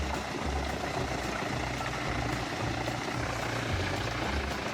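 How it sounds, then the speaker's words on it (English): Powerful engine of a Genç 582 mobile wood waste grinder running steadily, a loud, continuous low rumble and roar with no breaks and no voices. "The Gen's 582 man-wood waste grinder, equipped with a powerful engine, is designed for efficient wood waste processing"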